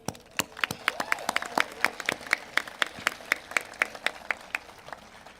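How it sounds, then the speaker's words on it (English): Graduates at a Dakota Collegiate convocation ceremony receive a round of applause, a modest scattering of hands clapping in a quick, uneven patter within a large hall. "and for that, I applaud you."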